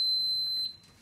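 A Whirlpool washing machine gives a single clear, high electronic beep as its start button is pressed, close and alone, ringing steadily for about half a second before fading.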